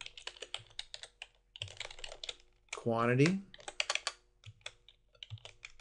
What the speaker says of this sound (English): The values are put in very simply by typing in the code